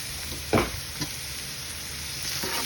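Chicken frying with onions and crushed dried chili in a pan, a steady mid-level sizzle broken by a couple of sharp stirring knocks and scrapes, with no talk.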